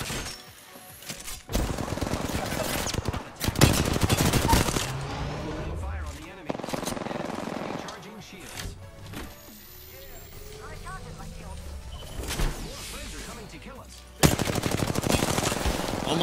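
Gunfire in Apex Legends: loud, broadband bursts of automatic fire come in separate volleys across the stretch, with quieter game ambience and a voice talking between them.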